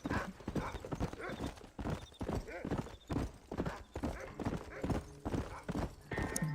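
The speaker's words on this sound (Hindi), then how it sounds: "चल मेरे घोड़े, टिक टिक टिक टिक टिक टिक टिक टिक टिक।" Horse hooves gallop in the video game Red Dead Redemption, a fast, steady, loud clip-clop rhythm running throughout, with someone talking over it.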